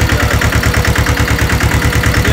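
A small tractor engine runs at a steady idle, its loud rapid regular thumping close by and continuous throughout, with no talk.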